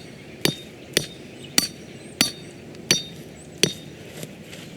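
A hammer drives an anchor hole into rocky ground for a coyote trap set, landing about seven sharp, ringing metallic blows at a steady pace, close and clear.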